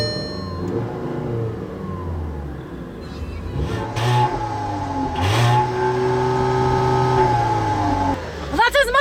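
A 2015 VW Jetta engine revved to about 4,000 RPM while sitting in park, its mid-pitched drone climbing in steady surges and holding high, loud and close, before dropping off.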